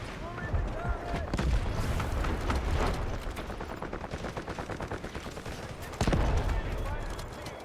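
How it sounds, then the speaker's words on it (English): An artillery barrage in an online shooter game, heavy booms opening the stretch, then a long run of rapid evenly spaced blasts like sustained gunfire, with another loud impact cluster near the end; voices talk faintly underneath. "Artillery barrage incoming."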